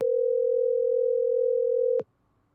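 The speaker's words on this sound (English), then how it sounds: "2 days later, the phone rang." Telephone line tone, a steady electronic beep held for about two seconds at an even loudness and then cut off abruptly, heard alone with nothing else around it.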